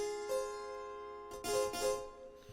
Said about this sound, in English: So the next thing I did was that I found this Philharmonik harpsichord.